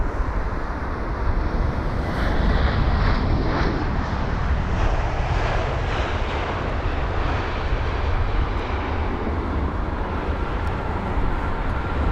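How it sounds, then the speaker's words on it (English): A British Airways Airbus A320, about twenty years old, arrives on a flight from Pisa at London Heathrow on a windy day. Its broad, steady jet roar stays fairly loud and constant throughout, with wind rumble and no talking. "the British Airways A320 CEO, or 200 with the reg Golf Echo Uniform Oscar GEUUO from Pisa."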